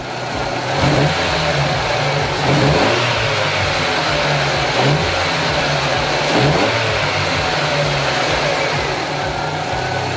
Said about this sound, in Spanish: Y ahora vamos a acelerar el vehículo.